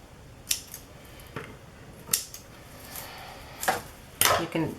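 Scissors snip through craft material in several separate crisp cuts spaced about a second apart, close and alone with no talk.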